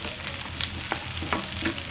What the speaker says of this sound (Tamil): அதையும் நல்லா எண்ணெயில் வதங்க விடுங்க